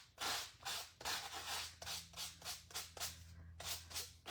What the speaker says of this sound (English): You can do the sanding to reveal more of the design.